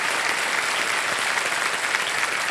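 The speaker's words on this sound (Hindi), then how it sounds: "जोरदार तालियां बज जाए मधुरिमा जी के लिए।" A studio audience on the KBC game show gives sustained, dense applause, steady and fairly loud throughout with no pause.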